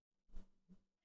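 A house cat gives a short, faint two-part meow, a quick rising cry and then a softer second note, heard alone in a quiet room.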